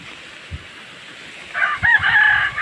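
A rooster crows loudly and close by on Simara Island, one drawn-out call rising after a brief quiet stretch with a few soft thumps.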